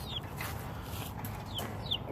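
A loose chicken named Speckles gives a few soft clucks and short chirping calls while being herded toward a cage outdoors, faint and sporadic over low background rustle.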